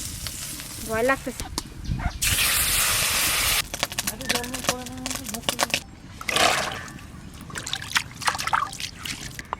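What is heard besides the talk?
fish cooking in a wok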